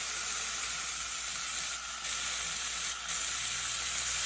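A deer heart sears in a hot pan, giving a steady, close, loud sizzle and fry crackle that runs unbroken throughout, with no speech.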